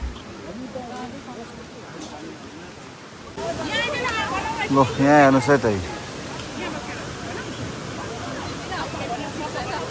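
Rumbuk waterfall in West Sikkim, crowded during a local fair, gives a steady broadband rush that fills the background while someone talks close by and other voices murmur behind him.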